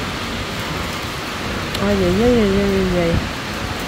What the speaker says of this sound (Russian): Очень сильный гром, молния, дождь косой, все заливает.